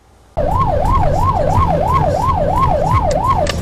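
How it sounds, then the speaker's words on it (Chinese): A police car siren sounds as the car speeds to a school. It is a loud, close, continuous wail that rises and falls in a steady cycle about eight times. "警车一路鸣笛，火速抵达学校"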